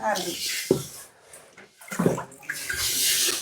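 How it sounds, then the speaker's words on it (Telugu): Water runs steadily into a pot with a rushing splash, while people talk nearby over the flow. "ఇంకా రెండు చెములు నీళ్ళు పట్టినాయి ఇలా"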